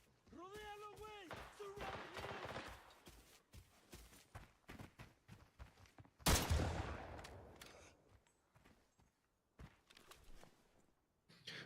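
Close-range pistol gunshots in the video game Arena Breakout, several sharp bursts spread over the span, one big loud blast midway, with footsteps, game sounds and a commentator talking underneath.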